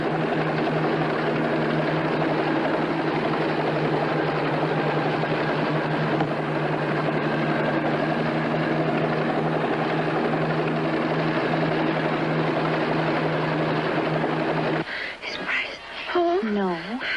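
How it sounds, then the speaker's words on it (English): A recovery helicopter hovers over the sea picking up two astronauts, a loud, steady rotor drone that fills the whole stretch, with a brief voice near the end. "the recovery chopper from Baker Island is now picking up the 2 astronauts."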